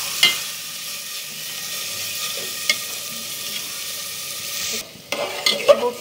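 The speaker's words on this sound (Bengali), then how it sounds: "এরপর সবগুলো মিক্স করে নিচ্ছি।" A spoon stirs melted jaggery and fried rice in a hot pan on the stove, giving a steady scraping and sizzling with a few sharp clinks, close and fairly loud, then a brief pause and a few more scrapes.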